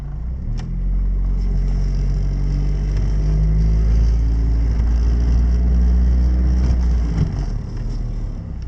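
A 1988 Honda Prelude drives along with its engine humming and swelling gently through mild revs, a steady close rumble inside the car.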